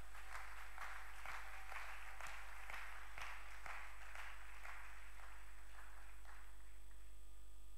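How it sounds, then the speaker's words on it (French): A church congregation breaks into sustained applause, many hands clapping at a moderate distance for several seconds and fading toward the end, over a steady low electrical hum. "Est-ce que tu peux acclamer le Seigneur?"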